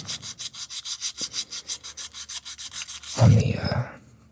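Sandpaper rubs back and forth over wood in quick, steady strokes, about twenty of them, ending in a louder, rougher scrape.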